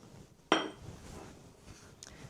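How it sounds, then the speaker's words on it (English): A stiff spoon knocks twice against a bowl while breaking apart cream cheese and working in white sugar for a cheesecake swirl: one sharp, close clink, then a fainter tap near the end, with quiet stirring between. "I'm just going to break that apart with the back of a very stiff spoon"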